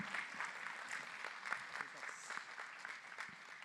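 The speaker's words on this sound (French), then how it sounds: "On peut les applaudir pour les encourager aussi." Audience applause greets a robotics team called RoboClean at an agricultural tech challenge event, a steady wash of many hands clapping at moderate volume throughout, with no speech over it.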